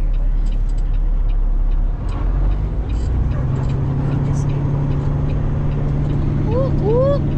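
A Peterbilt 389 truck engine pulls in first gear with a deep, steady, loud drone inside the cab, and a voice briefly sounds over it near the end.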